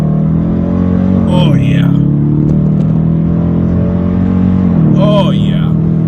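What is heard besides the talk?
2019 Dodge Challenger R/T engine revving while accelerating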